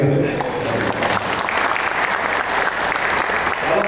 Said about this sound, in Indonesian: Tepuk tangan lah ya.